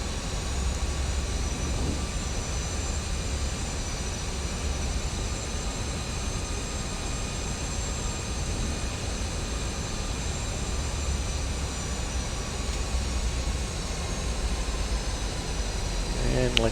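Airliner jet engines hum in a flight simulator on final approach, giving a steady, even drone with a faint high whine. A voice talks over it at times.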